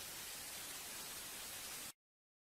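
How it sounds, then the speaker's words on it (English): Steady hiss of broadband static from The Grieving remake horror video game, loud and continuous, then cutting off abruptly near the end into silence. "That was weird how the static stopped when he said that."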